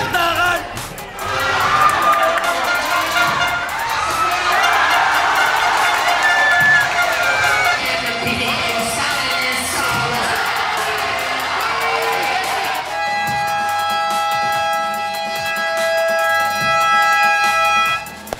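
Large crowd at a street event in a tenement setting cheers and shouts, with children yelling and whooping in a loud, continuous roar, and voices mixed throughout; near the end a sustained tonal sound rises over the crowd.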